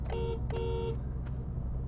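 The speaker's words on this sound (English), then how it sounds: "Then there's the horn. I mean, listen to this." Two short honks from a Honda Civic Type R car horn, a thin two-tone beep sounding twice in quick succession, close and clear with no voices.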